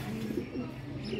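Pigeons coo steadily in a low, throaty murmur, several birds overlapping in a continuous soft burble at close range.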